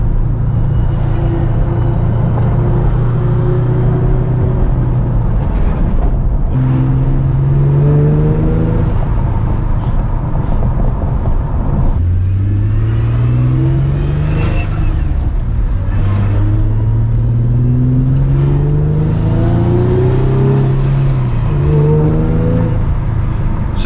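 An Infiniti G37S fitted with a Motordyne exhaust pulls through several rising revs and upshifts while driving, the exhaust note loud and steady from inside the cabin, with occasional voices in the background.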